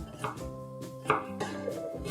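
A knife chopping an onion into small cubes on a board, several uneven quick strokes close by, fairly quiet with no talking.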